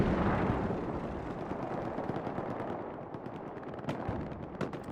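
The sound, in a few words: gunfire and HE explosions in video game Hell Let Loose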